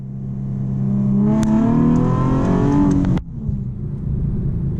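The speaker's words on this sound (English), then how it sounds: "Let's try gunning it here." A Nissan 370Z's naturally aspirated engine revs hard under acceleration, pitch climbing steadily for a couple of seconds before an abrupt drop as throttle lifts, then a lower rumble; loud, close, from inside the car, no talk.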